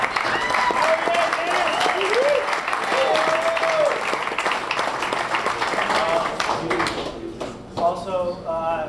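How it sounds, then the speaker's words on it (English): Diners at a gold medal beer dinner applaud for Dennis, steady loud clapping from a room of guests with some cheering, tapering as voices return at the end. "another round of applause for Dennis"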